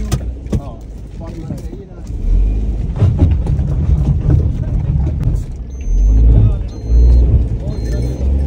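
A car engine labours and revs up a rough, steep forest track in Dudu Basa leopard country, low rumbling surges swelling and easing over bumps, with people talking over it.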